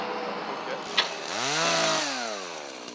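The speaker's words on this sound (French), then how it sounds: "ils doivent être à la tronçonneuse, vous allez les entendre" A chainsaw drones in the distance, its engine pitch rising and falling as it revs, over a steady outdoor background.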